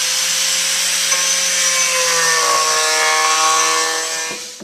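A router bit extended far out of its collet cuts a mortise in wood with light passes, a steady loud whining drone with a rising pitch midway, fading slightly at the end.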